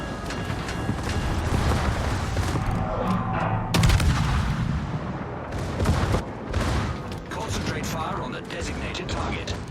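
Battleship secondary guns in a naval battle video game fire as a dense string of booms and cracks over continuous rumbling combat noise, with a voice talking over the action.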